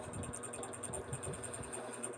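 LG front-load washing machine drum turning on the spin program, with the drain motor not running, giving a faint low hum and soft rattling under a steady high-pitched whine that pulses regularly.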